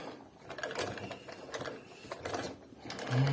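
A heavy-duty Decor 323 sewing machine, set up for extra-heavy harness work, stitches with a fast, even mechanical clatter of needle and gears, close and continuous.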